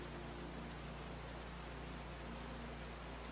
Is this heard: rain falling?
yes